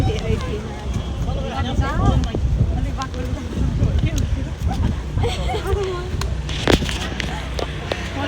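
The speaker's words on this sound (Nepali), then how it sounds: "हावा" Wind gusting across the open Chandragiri hilltop near the Bhaleswor Mahadev temple, a steady rough buffeting on the microphone throughout, with people talking and moving nearby and a sharp knock near the end.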